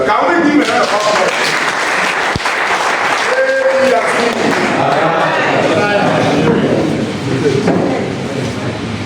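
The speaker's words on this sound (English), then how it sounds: "Can we give another applause?" An audience at a political party event in Anambra, held to announce a governorship ticket, applauds with dense, steady clapping. The applause stays loud for the whole stretch, with no clear break.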